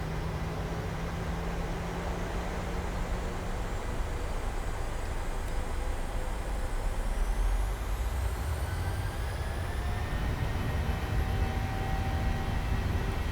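Boeing 737-800 jet engines spooling up for the takeoff roll, a broad steady roar with a whine climbing in pitch midway, heard from inside the aircraft at moderate level without speech.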